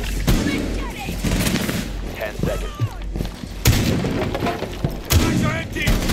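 Gunfire in a tactical shooter video game during a tournament grand final match, with repeated sharp shots and bursts at close range, mixed with players talking over voice chat.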